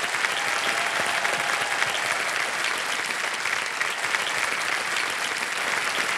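A game show studio audience gives sustained, dense applause at a steady level throughout, with no talk over it.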